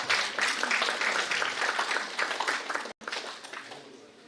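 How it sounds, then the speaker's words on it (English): Audience applause at an academic conference session, dense and steady crowd clapping welcoming a speaker to the stage, briefly cutting out near the end before resuming. "Please join me in welcoming him with a big round of applause."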